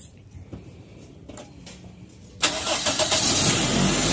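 Toyota GLI with a 4A-FE engine hard starting: a few quiet clicks and faint cranking attempts, then the engine catches abruptly and settles into a loud, steady idle close by.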